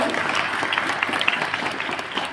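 Parents clap for schoolchildren at a Public Global School award ceremony, a brief burst of dense, fairly loud applause from the audience.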